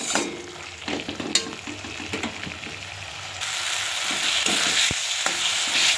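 Spice paste for a sea fish curry fries in oil with a close, steady sizzle as a spoon scrapes and stirs the pan in quick rhythmic strokes, the hiss swelling louder toward the end.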